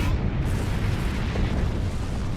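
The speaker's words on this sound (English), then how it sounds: "That was quite an explosion" A starship explodes in the Star Trek Online video game inside a micronebula, a loud, sustained broadband roar and rumble that fills the whole clip with no letup.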